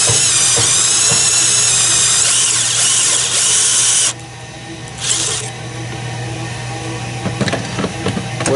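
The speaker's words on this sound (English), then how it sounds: "Take a 1/4-inch drill or smaller, bring it right down the center of the shaft," A power drill with a 1/4-inch bit whines steadily at close range boring down the center of an edger jackshaft, then cuts out abruptly midway, leaving faint hissing and a few brief bursts of the motor.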